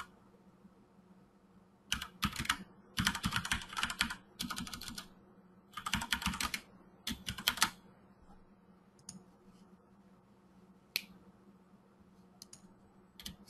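A computer keyboard is typed on in several quick bursts of clicky keystrokes separated by pauses, then a few isolated key taps, close and clear over a low steady hum.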